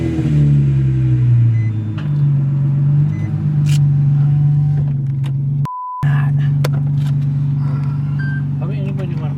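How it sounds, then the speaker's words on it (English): A Nissan 350Z engine hums and idles steadily with a low rumble, rising slightly as it revs, while people chat nearby and a brief tone cuts in. "Turn the car on."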